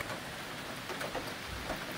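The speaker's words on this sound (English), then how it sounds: "It is full on raining right now, and here is the gutter system in action." Heavy rain pours steadily at an off-grid cabin, a dense, even hiss with scattered droplet patter and no voices.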